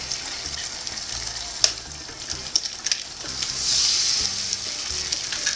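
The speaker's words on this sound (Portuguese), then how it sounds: "vou fritar o ovo aqui nessa sujeirinha mesmo do hambúrguer" Egg frying in a pan with leftover hamburger drippings, a bright, close sizzle with crackling pops and a swell of hissing midway, no talking.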